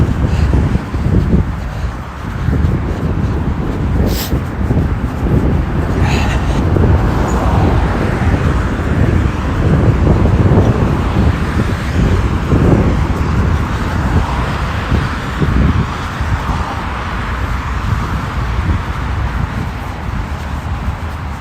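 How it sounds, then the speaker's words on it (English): Cars come off a freeway onto a parkway in a steady, moderately loud traffic roar, with wind buffeting the microphone and no clear single vehicle standing out. "we'll still have these cars coming off the freeway going onto the parkway here, but not nearly as noisy as the 4 lanes of traffic up there"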